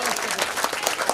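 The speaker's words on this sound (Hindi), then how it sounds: "जोर दे बजाओ ताली" Dense, steady applause from an audience at a Bhagwat religious gathering, a quick run of sharp overlapping claps filling the space without pause.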